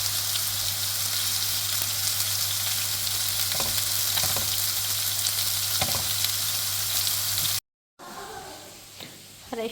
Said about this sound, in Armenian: հավի կրծքամիսն են տապակում հիմա